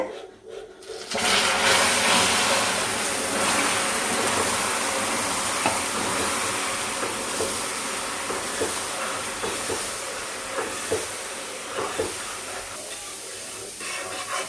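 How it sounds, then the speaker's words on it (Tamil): Hot water poured slowly into caramelized sugar syrup while stirring, a loud, steady hiss and bubbling sizzle that bursts in abruptly and rages on for over ten seconds with small spits and crackles throughout. "நம்ம வந்து ஹாட் வாட்டர் ஒரு கப் எடுத்துக்கலாம். இப்படியே கலக்கிட்டே வந்து மெதுவாக ஊற்றுங்க."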